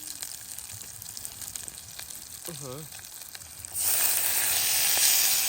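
Curry paste and coconut milk are stir-fried outdoors, a quiet sizzle with scattered scrapes and a short voice in the background, then a louder, brighter rush of frying as more liquid goes in.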